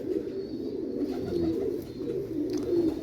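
A pigeon coos softly with low, throaty rolling calls in repeated phrases, close by against a faint background hum.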